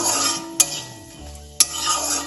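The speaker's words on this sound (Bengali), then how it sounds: "এবার আমি এই তেলের মধ্যে 2টো শুকনো লঙ্কা এবং 5 ফোড়ন দিয়ে দিলাম। ফোড়নটা তেলে একটু নাড়াচাড়া করে নেব।" Two dry red chillies and five-spice tempering stirred in hot oil, a soft crackling sizzle with two sharp clinks of the spoon against the pan about a second apart, close and clear with no voices.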